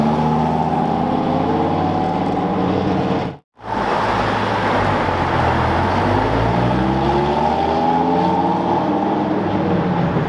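A Dodge Viper sports car on radial tires drives past with a loud, steady engine roar that sweeps in pitch over about ten seconds, broken by a brief dropout, with no talking.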